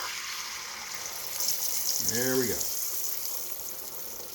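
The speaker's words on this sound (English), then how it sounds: "you can tell it's hot enough when you pour the egg in, because it should sizzle" An egg poured into a hot buttered pan sets off a sudden, loud sizzle that swells and crackles briefly before settling into a steady low fry, with a person speaking nearby.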